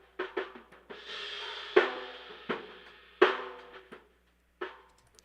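A drum kit heard through an odd telephone-style mic, thin and band-limited and recorded in a small room. Snare-like hits and cymbal washes come in an uneven groove, fairly quiet with no voices.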